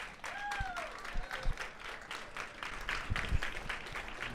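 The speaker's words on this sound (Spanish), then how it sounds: "Por favor, un fuerte aplauso a Ernesto Sosa Rocha." Audience at a book presentation claps for an honoured chronicler, a scattered, fairly faint patter of hands that swells and thins, with a brief tonal sound and some murmur underneath.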